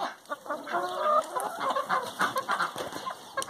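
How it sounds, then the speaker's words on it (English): Farm chickens cluck repeatedly nearby in short uneven bursts, with a steady background hum beneath them. "There's the chicken."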